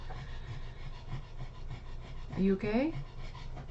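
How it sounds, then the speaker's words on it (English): A dog pants rapidly and steadily under a chair on a hot summer day, close by and continuous, while a voice briefly asks a short question near the end. "she's just panting under my chair because she really wants the caffeine I won't let her have"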